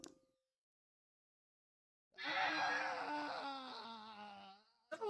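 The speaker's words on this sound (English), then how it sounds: "we're getting double screams on every incapacitation today" A long, loud anguished scream plays as a character is incapacitated during a Flash Gordon tabletop roleplaying session, rising suddenly from silence, sustaining for a few seconds, then fading, followed by a brief sharp burst.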